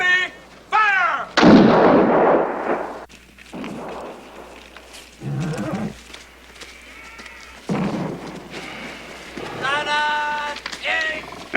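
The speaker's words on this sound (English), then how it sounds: "Gun 6, make ready! Fire!" Warship cannons fire one after another during a 1780s-era naval bombardment, heavy booming blasts breaking through loud shouted orders from the crew.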